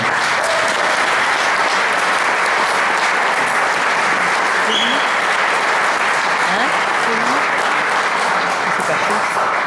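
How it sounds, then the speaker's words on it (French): Concert audience applause at an evening event in Uhrwiller, sustained dense clapping from a sizable crowd, loud and continuous throughout with no pause. "je pense qu'on peut applaudir"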